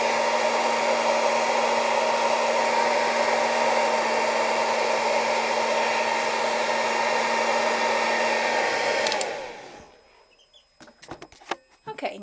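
A hair dryer blowing steadily and loudly on a wig weft, a constant close whir that cuts off near the end, leaving quiet handling noises.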